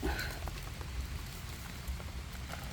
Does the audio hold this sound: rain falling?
yes